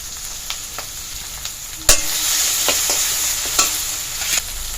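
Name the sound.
chili and cumin paste frying in a pan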